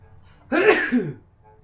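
A single sneeze, close and fairly loud, with a sharp burst and a short trailing exhale in an otherwise quiet room.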